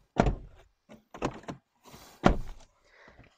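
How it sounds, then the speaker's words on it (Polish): A Volvo V90 estate's door swings shut with a heavy, solid thunk, followed by a few more dull knocks and clicks close by in a quiet cabin, with no voices. "Zamykamy drzwi."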